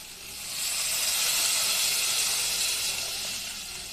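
Tamarind juice poured into hot oil with chilli powder for an egg curry, a loud rushing hiss of steam that builds quickly and then slowly eases off.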